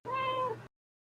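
A pet cat named Kitty gives a single close, clear meow lasting just over half a second, a rising-then-falling cry, followed by silence.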